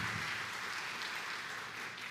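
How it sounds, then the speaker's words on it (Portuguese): A church congregation applauds during a service, producing a steady, even wash of many hands clapping at a distance, with no talk over it. "Você pode aplaudir o senhor?"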